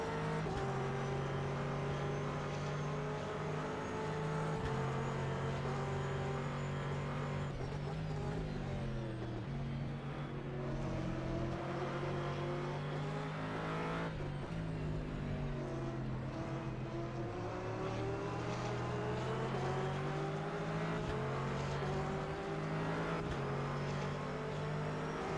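Race cars, including a Porsche and a Corvette, lapping Silverstone in a racing video game, heard as a steady, loud engine drone with rising and falling pitch as the cars shift through gears, without talk.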